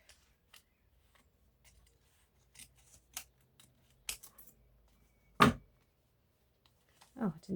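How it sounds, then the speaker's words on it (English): Scissors snipping excess paper off a junk journal page, a few quiet, sparse cuts and rustles separated by near silence, with one louder snip near the end. "before I glue it down, I'm going to cut this excess bit off"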